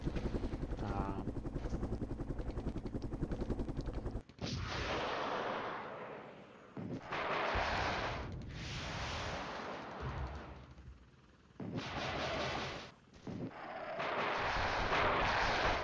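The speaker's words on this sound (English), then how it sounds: "Apache's getting some fire of their own." Apache helicopter gunfire and explosions in the Flashpoint Campaigns: Southern Storm wargame, with loud broadband bursts and a droning rotor-like rumble, intermittent across the stretch with brief lulls between blasts.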